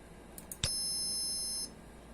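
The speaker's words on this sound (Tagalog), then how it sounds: "you can hear the buzzer produces a sound" An ESP32-driven buzzer sounds a single steady high-pitched tone for about a second, preceded by a couple of faint short clicks, alone and close.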